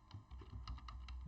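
Keys on a computer keyboard clack quickly and softly in a short burst of typing, a handful of light taps in uneven rhythm.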